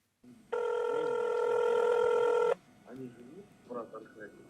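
A steady telephone dialing tone sounds loudly for about two seconds in a news report about a leaked phone call between prominent Russians, then cuts off as a voice begins speaking.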